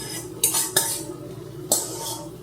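Utensils clink and clatter against dishes and a pan while an omelette is made at night in a home kitchen, three sharp clanks standing out over a steady low background hum.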